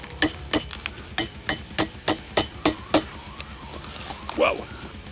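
A wooden club is struck with nails at a campsite, giving about nine sharp hammer blows in a steady rhythm, followed by a short voice at the end.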